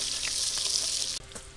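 Pointed gourds (potol) frying in hot oil in a pan: a dense, loud, steady sizzle that breaks off abruptly near the end, then resumes more faintly.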